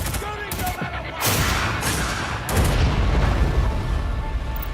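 Gunfire and explosions in the video game Tom Clancy's EndWar, with dense rattling bursts and booming impacts that build into a continuous barrage, loud and layered under radio-style game chatter.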